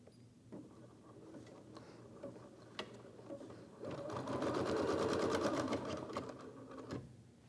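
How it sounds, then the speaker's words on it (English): Embroidery machine stitching decorative quilt lines on fabric for an in-the-hoop eyeglass case, a steady rapid mechanical ticking that grows louder and denser midway, close and alone without talk. "This next stitch sequence creates these really pretty quilt lines on the fabric."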